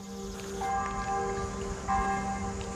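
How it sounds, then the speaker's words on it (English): A bell tolls twice, each strike ringing with a sustained, shimmering hum that hangs over a constant low drone, fairly close and clear with no talking. "what the hell's this bell, man? I thought it was a church at first, but it's getting close."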